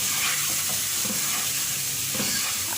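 Mutton with yogurt sizzling and frying in a pan while being stirred, a steady loud hiss with soft scraping and bubbling throughout, close by and uninterrupted.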